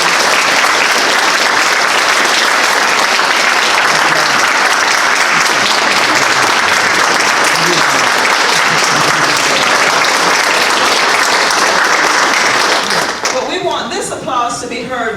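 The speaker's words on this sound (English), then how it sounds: "we want to give you a round of applause." Loud, sustained applause from a large audience at a school board meeting honoring a 2018 junior school group in South Carolina, dense clapping filling the whole stretch before thinning out near the end.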